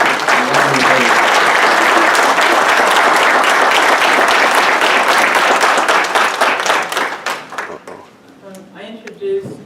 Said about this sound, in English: We give a big round of applause to Louise.